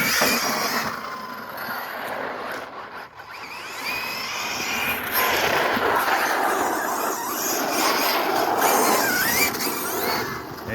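An Arrma Big Rock Crew Cab 6S electric RC truck tears around outdoors, with a loud, steady high-pitched motor whine and rough rolling noise that holds on continuously for about ten seconds.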